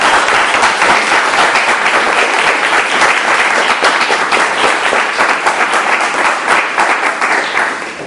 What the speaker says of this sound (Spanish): así que yo pido un aplauso para ellos.